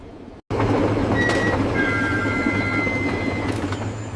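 Train sound effect for a story scene, a railway train slowing on its line, with a steady loud rumble of wheels on track, faint high squeals and rattles, starting after a brief silence.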